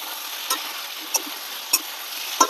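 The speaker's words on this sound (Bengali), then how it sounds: "ভালো করে কষিয়ে নেবো, যত কষাবো তত খেতে ভালো হবে।" Large chicken pieces being sautéed in a pan: a low, steady sizzle with four light, evenly spaced clicks of a spoon against the pan.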